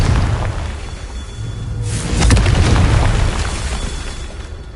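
Confringo blasting spell in Hogwarts Legacy, a booming fiery explosion that bursts out mid-clip over a dense rumble of game ambience, with no talk.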